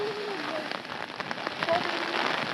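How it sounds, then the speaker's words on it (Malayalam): Rain pours steadily with wind at the Ponmudi hill station, a dense, even hiss of drops with a faint voice somewhere in the background. "ഇതാണ് പൊന്മുടിയിൽ വന്നിറങ്ങിയപ്പോൾ മഴ"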